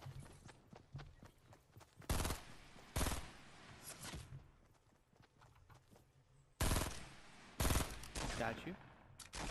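Bursts of gunfire ring out in Fortnite Battle Royale, sharp cracks and short rapid volleys clustered in a few groups between quieter stretches with faint game noise.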